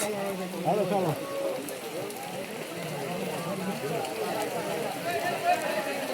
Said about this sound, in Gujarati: વરસાદ બહુ પડે છે